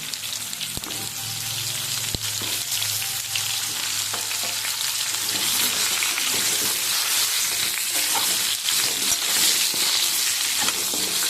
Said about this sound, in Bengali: পটলটা ঠিক একটু ভাজা হয়ে গেলে আমি ঝিঙেগুলো দিয়ে দেবো।